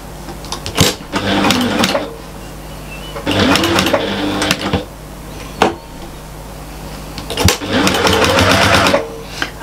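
A sewing machine stitching a small fabric bag with a zip, sewn close in three bursts of rapid mechanical whirring separated by short pauses and clicks while the work is pivoted around a corner.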